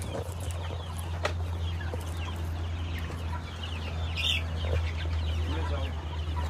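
Chickens clucking faintly in a yard, soft intermittent calls over a steady low hum and background noise, with a brief louder squawk near the end.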